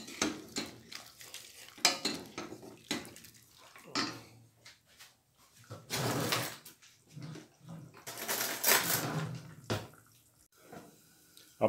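A utensil scrapes and clinks against a pot of diced beef stew with soy sauce in irregular strokes, with bursts of louder stirring and wet, sloshing scrapes close by.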